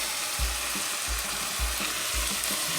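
Chili mac ingredients stirred in a hot pot, with a steady sizzle and about five regular scraping strokes of the spoon, close and moderately loud with no talking.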